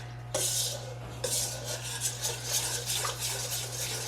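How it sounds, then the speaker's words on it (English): A whisk stirs gluten-free zucchini bread batter in a bowl, giving rapid rhythmic scraping and swishing strokes close up, loud and continuous after a brief pause, over a constant low hum. "I'm going to take my trusty whisk and whisk it around so it gets incorporated pretty well together here"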